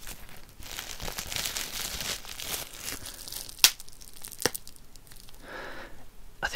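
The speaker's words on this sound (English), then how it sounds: "I also like the way the bubble wrap sounds, but not necessarily the pop in, just the actual sound of the plastic" Bubble wrap plastic crinkled and crumpled up close, a dense rustling texture with a couple of sharp snaps that could be stray bubble pops, then softer crinkling fading toward the end.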